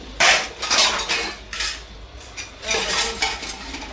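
Dishes being scrubbed and washed by hand at home after a family meal, with steady clinking and scraping of utensils and pots in quick repeated bursts, close by and fairly loud.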